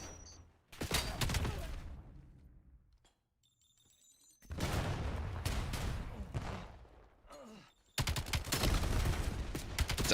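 Loud grenade explosions in a Call of Duty match, three separate blasts with booming onsets and long rumbling decays separated by brief quiet gaps.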